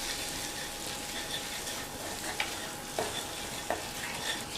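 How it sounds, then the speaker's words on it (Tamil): Gram flour being stirred into a paratha stuffing in a hot pan, a soft steady sizzle with a few sharp scraping knocks of the spoon, no one speaking. "சேர்த்துட்டு இதனுடைய பச்சை வாசனை போகிற அளவுக்கு நல்லா அப்படியே கிண்டி விட்டுறணும்."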